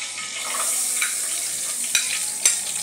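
Half a chopped onion frying in hot oil in a one-pot lunch, a steady close sizzle with a few brief crackling pops.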